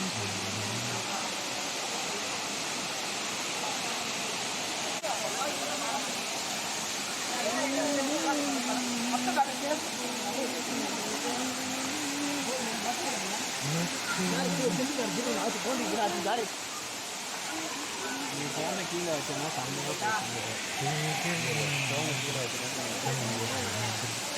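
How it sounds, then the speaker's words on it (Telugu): Second waterfall in Talakona forest, a steady broadband rushing roar of falling water that stays constant and fairly loud throughout, with faint voice-like sounds at times. "ఇది సెకండ్ వాటర్ ఫాల్స్ అండి"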